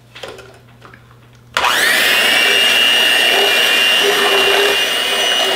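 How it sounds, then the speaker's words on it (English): An electric hand mixer starts abruptly and runs at a loud, steady whine while mixing a rum and raisin bread pudding batter, after a moment of quiet kitchen handling noises. "I realize I didn't have the strength to mix this thing by my hand, so I got the hand mixer."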